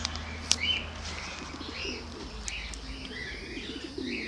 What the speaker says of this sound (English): Pigeons flying around this morning.